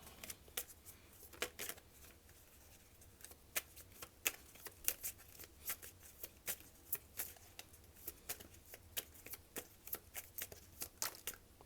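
A deck of tarot cards is shuffled in a quiet room: soft repeated riffling and flicking snaps close up, coming in irregular bursts throughout, with no speech.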